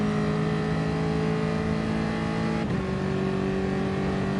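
A race car engine holds a steady high whine through the Mulsanne section of a French GP lap, then briefly drops in pitch for a gear change before settling again, loud and close with no talk.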